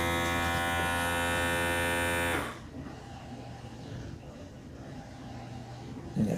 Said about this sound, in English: Manual, you could do seal and then vacuum seal.